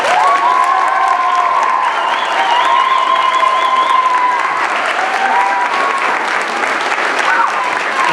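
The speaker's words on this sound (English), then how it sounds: "we give a round of applause as well" School debate exhibition audience gives a sustained round of applause, dense continuous clapping at an even level throughout, with some voices and light cheering mixed in.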